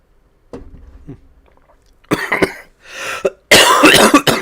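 Several close, harsh coughs burst out one after another, with a brief throat-clearing between them and quiet gaps in between.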